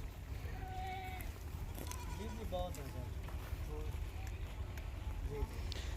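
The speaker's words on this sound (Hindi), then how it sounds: "बहुत बड़ा बकरा है माशाल्लाह से।" A large goat bleats several times in short wavering cries, close by and moderately loud among other faint animal and background sounds.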